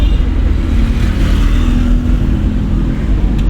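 A car pulling along in third gear during a driving lesson gives a steady, close engine drone with a low hum and a faint whine, holding even without revving.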